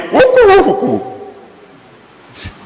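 A voice imitates a pigeon cooing with a short, hooting, warbling call up close. A faint brief sound follows after a quiet pause.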